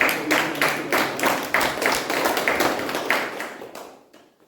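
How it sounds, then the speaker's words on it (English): A modest group at a Toastmasters installation ceremony claps together in a rhythmic round of applause, close and fairly loud, the pulsed claps holding steady before tapering off to silence. "Please give a thunderous round of applause for VP membership."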